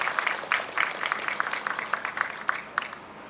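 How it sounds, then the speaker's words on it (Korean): A small crowd claps at a subway line extension groundbreaking ceremony in a Korean new town, a brief, loosely paced burst of applause heard from a moderate distance. "박수 한번 쳐주십시오"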